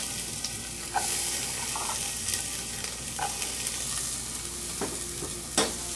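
Onions frying in olive oil in a pan: a steady, quiet sizzle with occasional soft stirring scrapes and clicks, close and continuous, with no talking.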